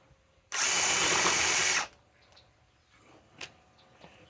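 A Ryobi PSBIW25 compact impact wrench on an 8 amp 21700 battery runs hard into wood in one loud, steady burst of about a second and a half. A few faint clicks and knocks follow.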